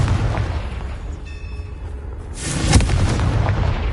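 A Confringo spell explosion in Hogwarts Legacy: a brief charging tone followed by a loud, broad boom that swells and rumbles out over a few seconds, with no voices.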